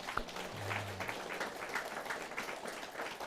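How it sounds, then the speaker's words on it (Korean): Congregation clapping during a Catholic charismatic prayer meeting in a church, a soft steady patter of many hands heard from a distance, fairly faint throughout. "박수 한번 쳐야 되겠죠?"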